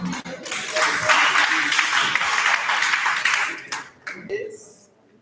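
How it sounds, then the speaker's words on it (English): A workshop audience claps steadily for about four seconds after a presentation, a broad wash of applause that thins out and stops, followed by a brief voice near the end. "once more we clap for"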